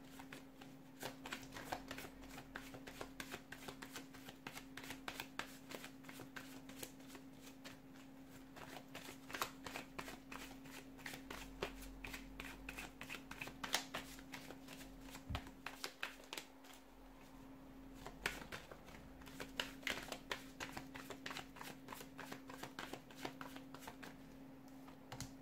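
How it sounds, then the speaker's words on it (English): A deck of tarot cards being shuffled by hand: a long, steady run of quick, soft riffling clicks and flutters, fairly close and quiet, with a low constant hum underneath. "let's go ahead, give the cards a shuffle"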